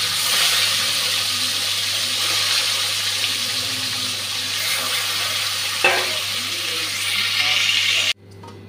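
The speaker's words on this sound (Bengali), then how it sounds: "এখন ভেজে নেব।" Katla fish rubbed with salt and turmeric fries in hot oil, a dense, steady sizzle close up that runs throughout before cutting off abruptly at the end.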